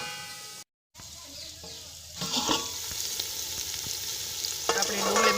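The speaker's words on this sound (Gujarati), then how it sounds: "एमां आपणे झीणा कापेला टमेटा उमेरी देशुं" Finely chopped tomatoes frying with onions in an oiled pan for a rustic dal-bati meal, a brief dropout giving way to loud, steady sizzling with occasional stirring scrapes.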